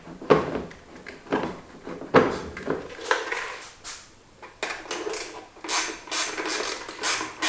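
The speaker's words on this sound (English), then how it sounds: "I'm using an 11mm ratcheting box wrench." An 11mm ratcheting box wrench turning a fastener during an AEV snorkel install on a Jeep Wrangler JK: bursts of close, rapid ratchet clicks and metallic handling knocks, repeated in short spurts.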